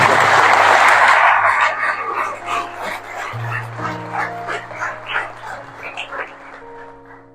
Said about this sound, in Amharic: ሳትወዱ በግዳችሁ አሁን ማጨብጨብ አለባችሁ።